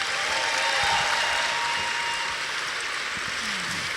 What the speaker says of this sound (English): big round of applause, Manu Bennett.